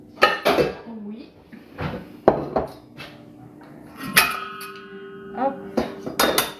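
Saucepans and pans clank and clatter as they are handled, with several sharp metallic knocks and a ringing tone; a person speaks between the sounds.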